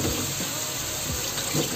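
Water is poured into a pot of black chickpeas that have just been added to a fried spice masala, giving a brief, steady rushing splash with no talk.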